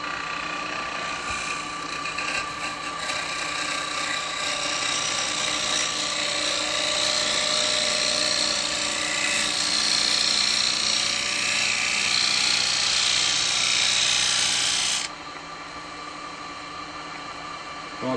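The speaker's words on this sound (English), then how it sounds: "I'm using a bowl gouge on this one." A bowl gouge cuts an ash bowl spinning on a wood lathe, giving a loud, continuous hissing whir with a high scraping edge. The sound holds steady for about fifteen seconds, then drops to a quieter hum.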